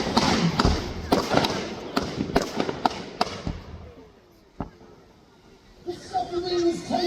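Explosions from a model naval battle re-enactment on the lake at Peasholm Park, Scarborough: a rapid series of sharp blasts and thuds, then a single bang after a lull, with crowd noise rising at the end.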